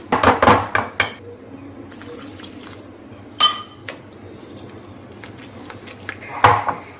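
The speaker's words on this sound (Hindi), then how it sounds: "इसको मैंने स्पैचुला से अच्छे से मिक्स कर लिया है" A spatula mixes whole wheat flour bread batter in a bowl. Several sharp clinks and knocks sound against the bowl, with quieter scraping between them, close by and without speech.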